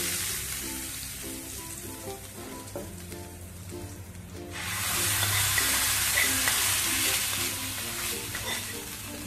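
A hot tempering of cumin seeds and chili flakes in oil is poured over chutney. A soft background hiss jumps to a loud, sustained sizzle halfway through, with faint stirring taps and no voices.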